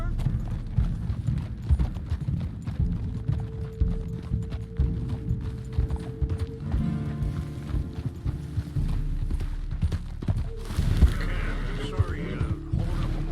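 Hooves clip-clop in a quick, steady rhythm under ambient game sounds, with a brief scuffle near the end.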